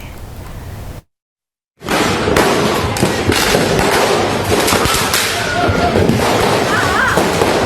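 Firecrackers go off in a street firecracker war on Jalan Kerung-Kerung in Makassar, South Sulawesi, with rapid loud cracks and bangs over a crowded outdoor din after a brief cut to silence.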